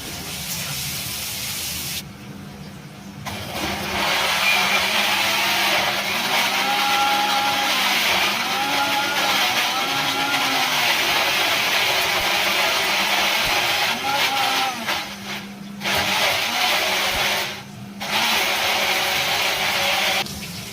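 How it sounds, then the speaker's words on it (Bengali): Chicken sizzling in hot oil with salt and turmeric in a home kitchen, a steady loud hissing fry that runs almost continuously, with a few brief drops in level and no talking. "একটু নুন আর একটু হলুদ দিয়ে আর একটু ভেজে নেবো।"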